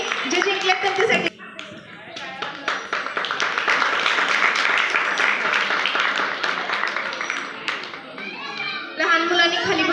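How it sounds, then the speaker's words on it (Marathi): An audience at a Women's Day event in Satara claps in a dense, sustained burst mixed with chatter, while voices speak at the start and end. "जोरदार टाळ्या वाजवायच्यात स्वतःसाठी पण आणि जे जिंकले त्यांच्यासाठी."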